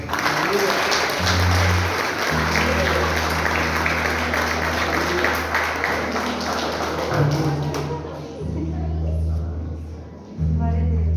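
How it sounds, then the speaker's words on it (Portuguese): Church congregation clapping in praise, a dense patter of hands over sustained low organ or keyboard chords and a murmur of voices, loud and steady throughout. "Que as palmas vão ao Senhor."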